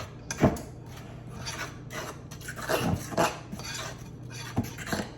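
Muffin batter for espresso double chocolate muffins stirred in a bowl, giving soft scraping and rubbing strokes with occasional utensil clinks against the bowl, close but quiet and without talk.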